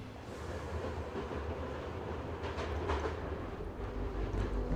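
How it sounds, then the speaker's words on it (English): A train moves out of a station in a visual novel game, with a continuous rumbling rail sound, faint clickety-clack and rolling wheel noise building slightly louder toward the end. No voices are heard. "As the train moved out of the station"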